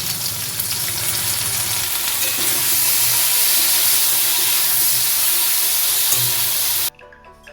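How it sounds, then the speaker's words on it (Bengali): Flat beans sizzle steadily as they fry in hot mustard oil, a loud continuous crackle lasting nearly the whole stretch before cutting off abruptly near the end. "শিমটা লাল করে ভেজে তুলে রাখবো।"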